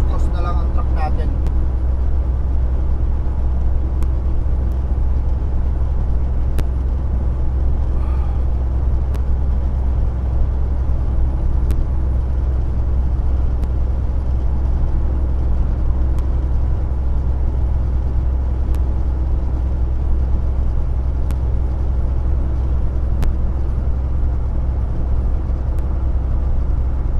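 A truck cruising along a road after a storm, its engine a steady low drone with constant road rumble throughout, close and unbroken, while someone talks over it.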